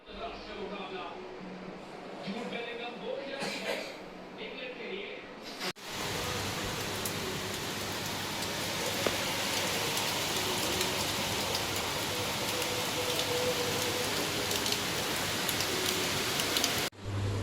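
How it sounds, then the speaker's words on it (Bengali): Steady rain pours down for most of the stretch, a dense, even hiss that starts abruptly after a few seconds of quieter room sound with a voice talking, then stays loud and continuous to the end. "হ্যাঁ, বৃষ্টি এসে গেছে।"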